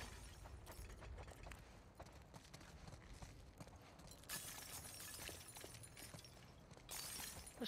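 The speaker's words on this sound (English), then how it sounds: "This shatters like a mofo." Glass from a light fixture being deliberately broken, giving crackling, crunching shatters with two louder bursts of breaking glass, close and continuous with no talk.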